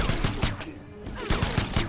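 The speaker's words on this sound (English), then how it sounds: "Full auto, Jacqui." Jacqui's full-auto gunfire in the fighting game Mortal Kombat XL, in a tournament match: several rapid bursts of loud shots in quick succession, with a brief lull between volleys.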